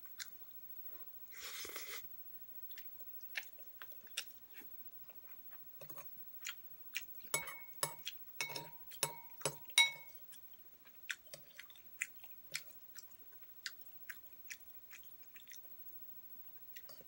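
Someone eating boiled eggs, with repeated soft chewing and crunchy bites close up, irregular bursts spaced across the whole stretch and no talking.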